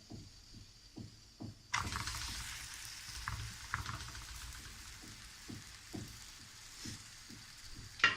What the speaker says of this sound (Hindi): अब हम उस पर रोटी डालेंगे